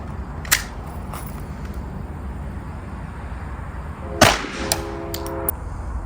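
A Glock 44 pistol firing .22 ammunition at a backpack body armor panel outdoors, two sharp, fairly near cracks a few seconds apart, the second followed by a brief ringing metallic tone and faint clinks.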